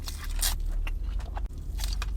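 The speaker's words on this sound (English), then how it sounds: "That meat is juicing and that tortilla is nice and crunchy." Crunchy bites into a fried tortilla filled with juicy meat, eaten up close: a few sharp, crackly bursts spaced out over two seconds, with no talking.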